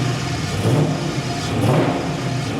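A Gen 3 truck engine revs up and down twice without the pedal pressed, a loud close-up roar rising and falling with no talking.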